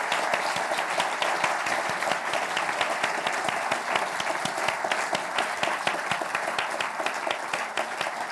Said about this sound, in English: I'm sure you'll join me in a huge round of applause to thank our two panellists